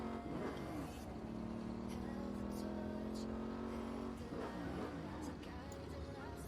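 A car engine in the video game Saints Row revs with a rising and falling buzzy drone, holding a steady pitch before climbing again, while someone talks over it throughout.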